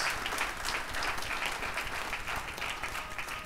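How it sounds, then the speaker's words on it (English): A church congregation applauds during a birthday celebration service, steady dense clapping filling the room at moderate level for a few seconds, with no speech over it. "Give her a round of applause."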